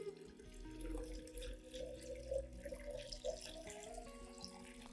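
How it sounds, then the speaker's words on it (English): Clean water runs from a tap into a container to dilute an orchid fertilizer solution, a steady splashing pour that continues throughout with no talk. "Add 1 liter of clean water to dilute the solution."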